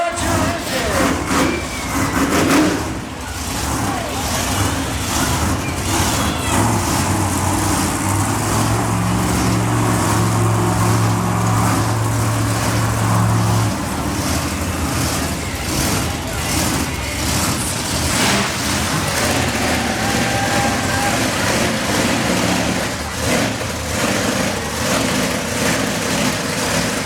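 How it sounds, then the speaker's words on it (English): Monster truck engines at a Versus Monster Trucks show in Plattsburgh, New York, roar continuously and loudly for the whole stretch, a dense, steady low rumble with swelling revs and crowd noise mixed in. "Gentlemen, start your engine."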